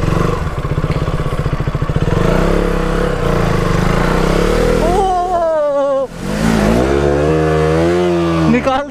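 Close, loud KTM motorcycle engine revving near a small pond, rising and falling in pitch with throttle bursts and a brief dip before it roars up again.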